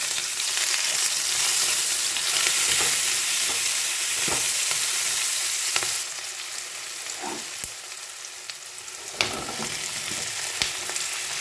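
Cumin, turmeric and onions sizzle in hot oil in a pan, making a continuous close frying hiss with scattered stirring clicks and scrapes. The sizzle drops a little in level partway through.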